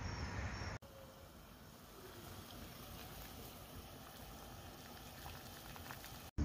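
Water coming to a boil for a Ukrainian 24-hour field ration of pork kasha, a steady close bubbling hiss that runs unbroken after a short break near the start, with no talk.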